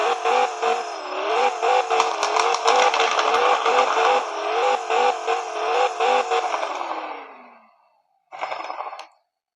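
A car engine in a Roblox video game revs and whines with wavering pitch, repeated rhythmic surges and clatter, then fades out before a short final burst of revving.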